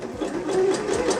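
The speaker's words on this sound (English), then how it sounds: "I'm going to sew this all down using my sewing machine" A sewing machine stitching fabric for gothic garters, a fast continuous whirring run lasting just over a second, loud and close, stopping abruptly.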